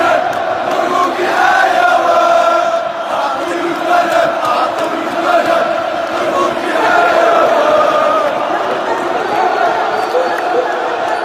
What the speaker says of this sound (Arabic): الهتافات الجماهيرية في ملعب نيلسون مانديلا عشية افتتاح شان بالجزائر